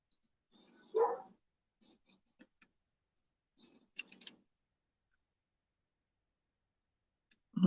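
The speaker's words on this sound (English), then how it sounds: "My silly little dog out there." A small dog barks outside in a few short, scattered bursts, fairly faint and distant, with long quiet gaps between them and no talking.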